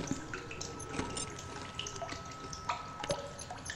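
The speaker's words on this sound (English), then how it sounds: "I hear water." Running water in The Solus Project survival game, a steady trickling and splashing like a tap or small stream with scattered drips, moderately quiet and continuous with no voices.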